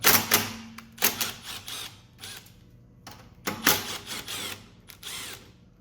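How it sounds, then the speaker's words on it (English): A 1/4-inch socket driver backs out two screws on a Craftsman lawn mower's Tecumseh engine, giving close, loud bursts of rapid whirring and ratcheting clatter in several short runs separated by pauses, with no voices. "we have a 1/4-inch socket right here, and that's going to remove these two screws"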